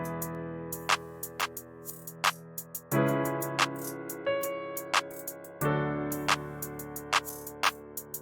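A hi-hat pattern made in FL Studio ticks in quick, crisp repeated hits over a sustained melodic synth beat with low bass, and the layered sections change every few seconds.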